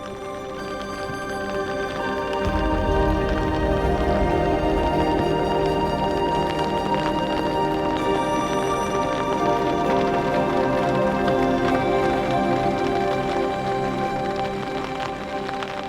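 Steady rain falls at a wild camping spot in the Rockies, a loud, continuous patter of drops on surfaces that holds evenly throughout, with no voices.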